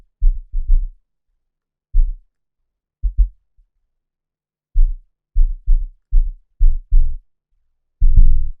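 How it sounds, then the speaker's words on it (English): A deep kick drum, boosted at 63 hertz in a mix, thumps alone in short irregular bursts of single and double hits, loud and booming with a final longer hit. "So here's our kick drum."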